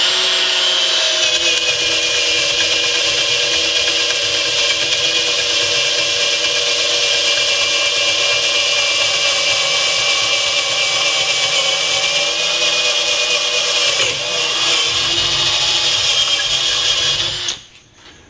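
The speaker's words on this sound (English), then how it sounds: "And we're gonna drill through this thing and let's see how it works." A Hilti SF 10W-A18 four-speed cordless drill running in first gear, boring through a workpiece: a steady, loud, close whine with grinding texture that holds for about seventeen seconds, then cuts off abruptly at the end.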